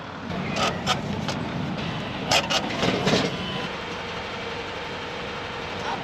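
A tram runs on its rails, giving a steady broadband rumble and rattle throughout, with a few sharp clacks near the start and in the middle, no talking heard.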